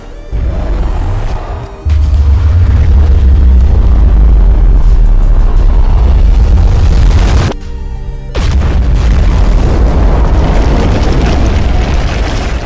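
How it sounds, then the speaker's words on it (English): A venom beam ultimate spell in the Elemental Warzone video game ends in a loud, sustained booming explosion with heavy rumble, briefly cutting out before the roar resumes. "concluding with a massive high damage venomous explosion"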